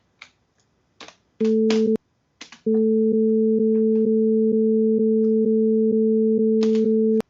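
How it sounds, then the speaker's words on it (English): Two pure sine tones an octave apart play together, first briefly and then sustained for several seconds, loud and steady with regular faint pulses, amid scattered keyboard-like clicks and taps. "Here's 440 and 220."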